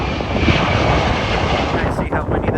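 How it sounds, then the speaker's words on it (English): A Boeing 737 roars past at MSP airport, a loud broad engine rumble that stays strong throughout, buffeted by heavy wind, with a person speaking briefly near the end. "Oh, another 737 here."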